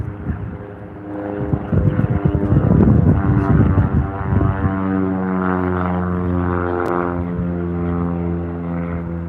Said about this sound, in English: Get a little Cessna down here for just a few more seconds.